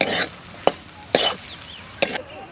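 Potato filling with ginger and green chilli is stirred and sautéed in a pan for aloo paratha, a spoon scraping in three or four brief, distinct strokes over a faint, low background.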